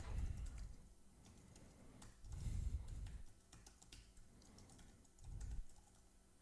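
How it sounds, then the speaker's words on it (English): Keys clatter on a computer keyboard as website keywords and a description are entered, a quiet run of soft clicks broken by a few louder bursts, close by with no voices. "maybe I type in that and then type in some of the keywords that people might look"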